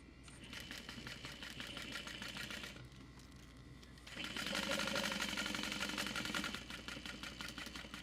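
A sewing machine stitches through clear vinyl for a waist pack, a fast rapid needle chatter that runs steadily, pauses briefly, then speeds up louder before settling back.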